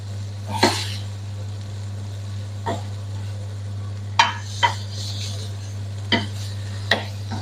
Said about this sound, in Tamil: ஒரு கரண்டி தண்ணி விட்டு நல்லா கிளறி விட்டு கொள்ளுவோம்